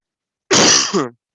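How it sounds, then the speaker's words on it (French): A single short throat-clearing cough sounds close to the microphone, loud and abrupt, with silence before and after. "Excusez-moi de tousser dans le micro."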